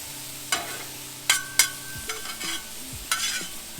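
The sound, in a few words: vegetables for chicken Philly cheesesteak sizzling in pan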